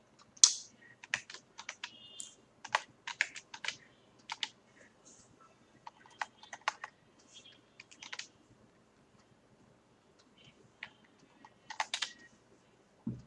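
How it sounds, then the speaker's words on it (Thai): Irregular bursts of keystrokes on a computer keyboard, quick clusters of clicks separated by short pauses, fairly close and quiet, with no talking over them. "เราก็ไปพิมพ์นะฮะพิมพ์พิมพ์ตามเขาก็ได้"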